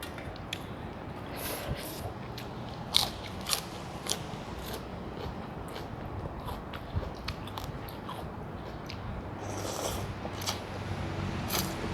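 Crisp pork rinds (khaep mu) crunched while eating a meal of spicy Thai papaya salad with prawns, giving a steady run of sharp, close bites and snaps over about twelve seconds with no talk.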